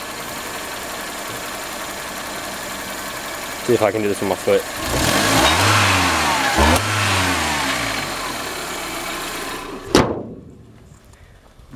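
A Toyota Corolla engine runs quietly at idle, then revs up in a couple of rising and falling bursts before settling, with someone talking over it and a sharp knock near the end.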